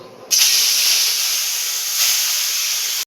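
Marinated pieces of fish, rubbed with lemon juice, salt, turmeric and pepper, hitting hot oil in a wok for doi pona, giving a loud, steady hiss that starts suddenly and holds unbroken to the end.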